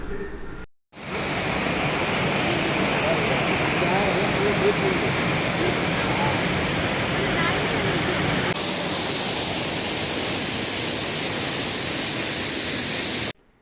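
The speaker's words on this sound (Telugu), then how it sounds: "ఇది మేము తడుస్తున్న సెకండ్ వాటర్ ఫాల్ ఇక్కడ." Hogenakkal waterfall pours down nearby in a steady, loud broadband roar of falling water that continues unbroken for over ten seconds, close to the listener.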